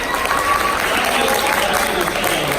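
A crowd at a gubernatorial debate gives a brief burst of applause, a dense, even clapping wash that fills the hall at moderate volume.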